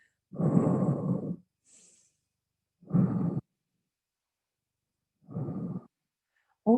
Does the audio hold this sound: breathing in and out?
yes